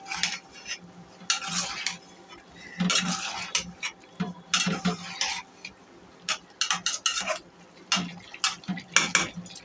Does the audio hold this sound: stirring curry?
yes